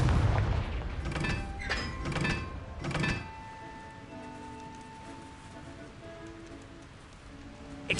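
In Hogwarts Legacy, a Confringo spell detonates as a series of heavy booming blasts, three strong hits in about three seconds, before a softer crackling tail with lingering magical tones.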